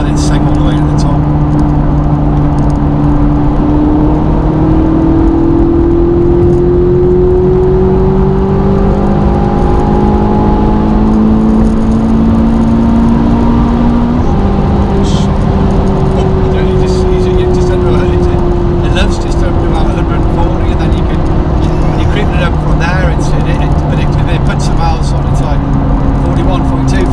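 Ferrari 458 with a Capristo exhaust, heard from inside the car, revs hard through rising engine sweeps with a drop at an upshift midway, a loud sustained roar throughout while people talk over it.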